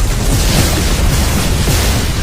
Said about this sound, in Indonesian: batu itu hancur dan mengakibatkan ledakan kekuatan yang dahsyat